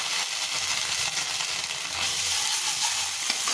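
Half a teaspoon of cumin paste fries in a pan for a rohu fish kalia, producing a continuous close sizzle with soft stirring scrapes underneath.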